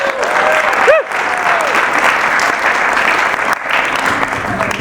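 Theatre audience applauding sponsors with a dense, continuous wash of clapping that fills the room, loud and sustained, with a brief tonal whistle or squeal early on.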